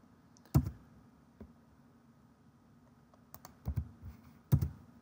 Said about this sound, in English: So I'm just going to type 0 on my keyboard.